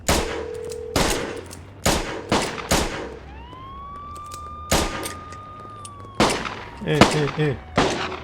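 Rapid pistol shots from a Glock in the Schedule 1 video game crack out in short bursts, with a police siren wailing through the middle and a voice yelling between the volleys.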